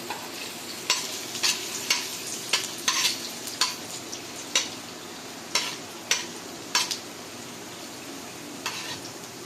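Chopped cashew nuts frying in a pan for rava kichadi, with a low sizzle under repeated sharp scrapes and taps of a spoon against the pan at irregular intervals, no talking.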